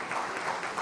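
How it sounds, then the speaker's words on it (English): Brief, moderately quiet applause from an audience at the end of a session at an AI summit in Delhi, a dense patter of many hands clapping with no talk over it. "at least people are clapping after this session."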